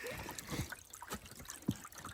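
Water dribbles faintly through a gold prospecting sluice propped up on rocks, its weak flow making soft, uneven trickles and small splashes close by, without speech.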